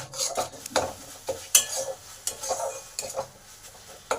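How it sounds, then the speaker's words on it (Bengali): Ginger, cumin and chili paste stir-fried in a pan for jackfruit kofta curry, with irregular scraping strokes of a spatula against the pan over a soft sizzle, close and moderately loud, no talking. "এই আদা আর জিরেটাকেও একটু ভালো করে কষে নেব"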